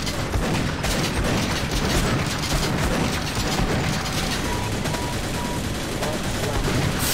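Continuous loud gunfire in Sven-Coop, dense and unbroken, with rapid shots and booms blending into a steady roar throughout.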